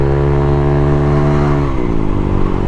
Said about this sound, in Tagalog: bago na yung tambutso natin, yung pipe natin.